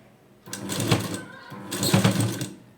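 A sewing machine stitches cloth in two short runs, a close mechanical whirring rattle that starts and stops, with a little speech nearby.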